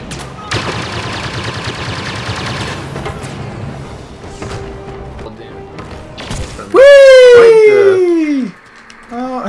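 Blaster fire and explosions from a Star Wars Battlefront video game match, with a loud burst of rapid shots, scattered thumps and a rising, whining tone near the end.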